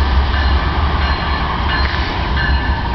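A Norfolk Southern double-stack freight train rolls slowly past at about 10 mph, giving a steady, loud rumble of wheels and cars with faint metallic clatter and no talking.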